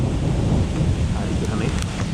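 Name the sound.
rain shower with thunder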